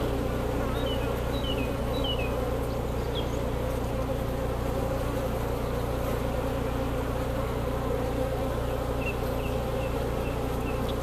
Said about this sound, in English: you can see these bees are getting upset.